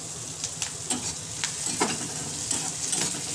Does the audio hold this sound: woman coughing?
no